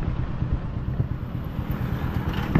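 A tricycle's motor idles close by on a Philippine street, a low, chugging rumble with irregular pulses that stays steady from start to finish, with no voices.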